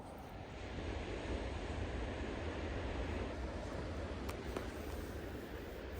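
Steady roar of Pacific surf washing in near Samoa, Eureka, California, broad and continuous, with wind buffeting the microphone throughout; no voices.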